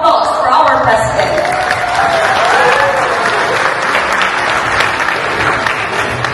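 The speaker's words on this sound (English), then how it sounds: "let's clap and give the loudest round of applause for our President." A crowd at a Philippine Independence Day celebration in Mozambique bursts into loud, sustained applause for the President, many hands clapping densely with cheering voices mixed in throughout.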